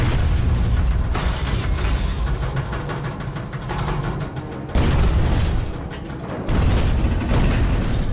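Depth-charge explosions from destroyer attacks, heard from inside a wartime submarine: deep, heavy booms in a series of loud rumbling blasts that swell, ease off, then strike again.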